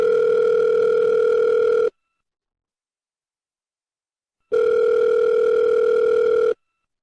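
A telephone dial tone sounds before a call, two steady loud tones of about two seconds each separated by silence, with no voices.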